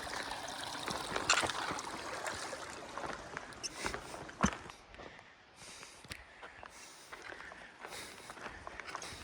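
A mountain creek flows near a trailhead in the Emigrant Wilderness with a soft, steady trickle and rush, while footsteps and gear rustling pass close by and loud sharp crunches punctuate the water.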